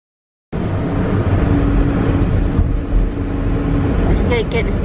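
Road traffic in the Philippines heard from inside a moving vehicle, a loud continuous engine and tyre rumble after a moment of silence, with a person talking over it.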